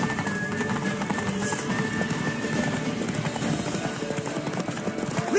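Horse hooves clip-clop in a quick, even rhythm on a road in The Witcher 3: Wild Hunt, close and steady over a busy game soundscape.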